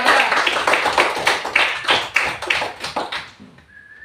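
A classroom of students claps for a group presenting on solid matter, with rapid, dense hand claps running for about three seconds before fading out.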